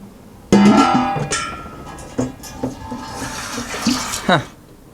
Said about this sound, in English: I'll fill this pot with water